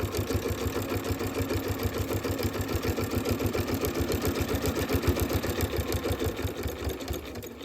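Close, loud sewing machine stitches through fabric in one continuous run, a fast even rhythmic whir and needle thump held steady for several seconds.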